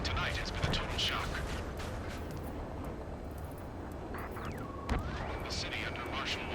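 Low, constant rumble of jet engine roar over a city under martial law in the Ace Combat 7 combat flight game, broken by occasional muffled gunfire bursts, all faint and distant.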